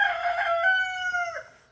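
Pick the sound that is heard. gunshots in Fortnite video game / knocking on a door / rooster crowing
rooster crowing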